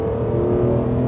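A stock BMW M3 CSL with SMG gearbox drones under load, a steady, loud engine tone held through a brief moment around a gear change, heard from inside the car.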